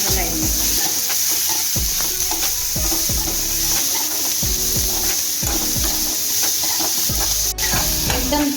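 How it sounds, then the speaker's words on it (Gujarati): Eggplant and potato curry frying in a pan, a steady loud sizzle with repeated rhythmic scraping strokes of a spoon stirring the vegetables, close and continuous. "હવે આપણે હલાવી નાખીશું."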